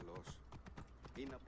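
Horse hooves clip-clop over rocky ground in Assassin's Creed Origins, a quick, faint run of hoofbeats under someone talking.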